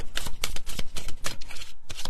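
A deck of playing cards riffled and shuffled by hand, quick papery bursts in an uneven rhythm, close and clear with no talking.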